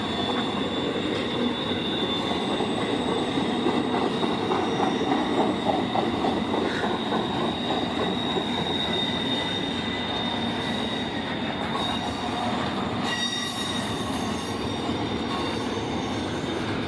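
A train rolls steadily past close by for the whole stretch, loud and continuous, with metallic wheel squeal and a faint rhythmic clatter of wheels over rail joints.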